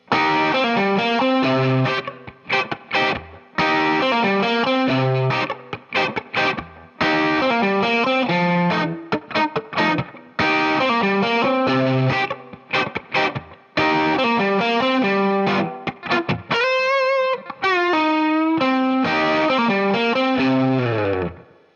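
A distorted electric guitar plays a bluesy phrase with double stops and bends, sustained and loud, with brief pauses between licks and a wobbling vibrato near the end.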